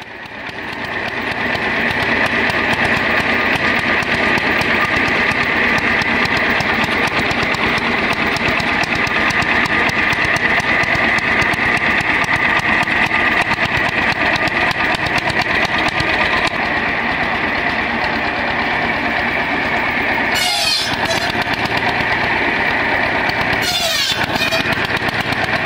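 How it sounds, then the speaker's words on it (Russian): The engine of a 1950s German mobile circular saw for cutting firewood on site runs loud and steady with a continuous buzzing drone and two brief dips near the end. "Немецкая бытовая мобильная циркулярная пила из 50-х годов прошлого века, которая активно применялась при заготовке дров прямо на месте вырубки."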